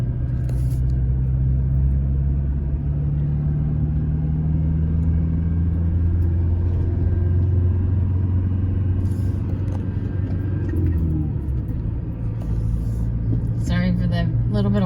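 A car drives along a road with a steady low engine rumble and road noise throughout, with gear shifts made along the way, while a person talks over it.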